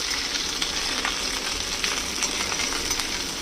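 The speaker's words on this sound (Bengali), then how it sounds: "কালো জিরে দিয়ে দেওয়ার পরে দিয়ে দেব এই কাটা ভেন্ডিগুলো একটু মিক্স করে দেবো" Chopped okra fried in oil with black cumin sizzles steadily and close up, with soft scraping and stirring clicks over the constant crackle, and no voices.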